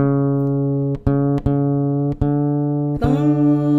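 Four or five ringing plucks of a guitar's fourth string, tuned by ear against the neighbouring string, each note sustaining into the next, the final one slightly altered in pitch as it is adjusted.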